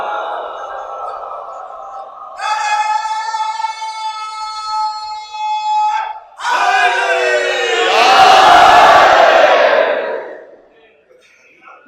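A majlis audience in Lucknow recites salawat together, a large crowd chanting loudly in unison after a lone voice leads, with the massed voices swelling and then fading.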